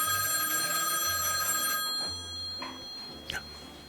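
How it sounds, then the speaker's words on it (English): A payphone rings with a bright electronic bell tone in one sustained burst, followed by quieter background sounds and faint talk. "that's the payphone"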